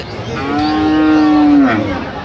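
A single long, loud moo from a nearby dairy cow at the Aftabganj cattle market in Dinajpur, rising and holding before trailing off amid faint crowd murmur.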